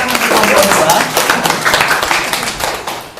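A classroom audience applauds a group's presentation with a dense, steady patter of many hands clapping for about three seconds, while voices talk over it.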